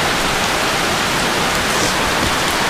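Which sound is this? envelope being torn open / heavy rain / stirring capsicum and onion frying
heavy rain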